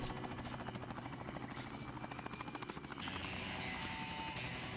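Steady whirring helicopter rotor drone from the game Ty the Tasmanian Tiger 2: Bush Rescue, loud and continuous with a rapid pulsing chop, shifting in tone partway through, no voices.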